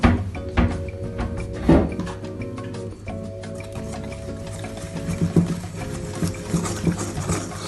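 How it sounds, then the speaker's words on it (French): A whisk stirring a thick, bread-like batter in a bowl: uneven scraping and clicking strokes against the bowl, close and fairly loud, continuing throughout with a low background hum and no talk. "je vais commencer déjà à remuer"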